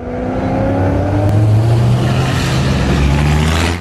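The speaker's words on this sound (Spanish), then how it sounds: "Vive la adrenalina y la emoción en un gran show automovilístico, la Copa GT500." Race cars at a Copa GT500 motorsport show roar loudly and close by, with engines revving and rising in pitch in one continuous blast.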